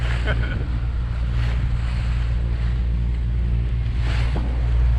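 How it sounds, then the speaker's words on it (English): A sailboat under sail with its engine off, out at sea between St Lucia and Martinique, with steady wind and water rushing past the hull, continuous and close. "The engine's off and we're sailing."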